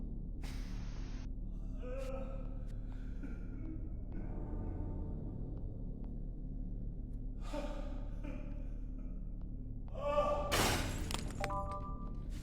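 A glassy smash bursts out in the Yuppie Psycho video game near the end, sharp and loud over a steady low ambient hum, with small clinks and game effects scattered before it.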